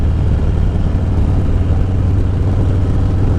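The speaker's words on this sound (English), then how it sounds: "with the pipes that I have on it now, you can definitely hear the exhaust note" A Harley-Davidson Heritage 114 Classic fitted with aftermarket pipes, its deep, loud, steady exhaust rumble and engine drone running continuously up close with no voices over it.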